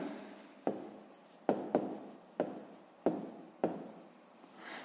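Pen writing on paper while working a sixth-grade math exercise, close and quiet, in several short scratchy strokes each starting with a sharp tap, separated by brief pauses.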